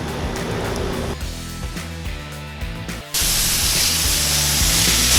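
Water sprays hard onto greasy coils, rinsing off a foaming cleaner. The hiss is steady and close, with softer spraying at first that suddenly turns into a louder, broad continuous rush.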